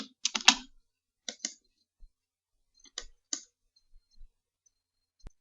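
Short bursts of key clicks on a computer keyboard as a macro name and comment are entered, a quick cluster of taps followed by sparse, scattered single clicks in a quiet room.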